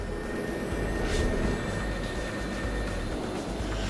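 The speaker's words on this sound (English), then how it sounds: "The deck director signals the pilot to push up his power for takeoff." An F-4 Phantom jet engine on a carrier deck powering up for takeoff, a steady, loud, broad roar with a whining high edge that holds constant throughout.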